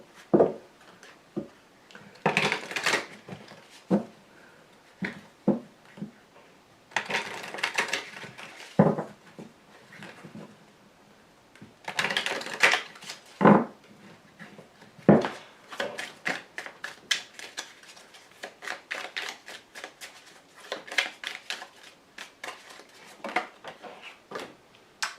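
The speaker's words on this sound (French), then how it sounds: "je rajoute 3 petites cartes dessus" Tarot or oracle cards laid one by one on a table during a card reading, giving a series of sharp, close taps and soft slides in irregular bursts, with no talking.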